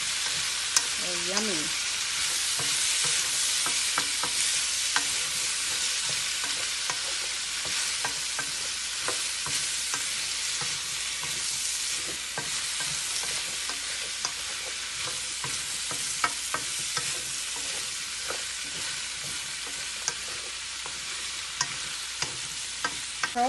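Okra stir-fries in a pan with a steady sizzle and frequent scraping and stirring clicks over a long stretch, while a voice briefly speaks near the start.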